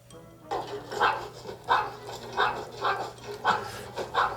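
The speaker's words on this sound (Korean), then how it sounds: "특히 안방에서 아기가 장난을 칠 때 짖음이 심합니다." A pet dog barks at a baby in a home, about seven sharp, close barks coming in an even, rapid rhythm over a low background hum.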